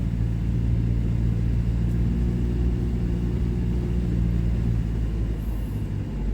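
A steady low engine rumble from inside a manual car engine braking downhill with no pedals pressed, droning evenly with no sharp changes, close and fairly loud throughout.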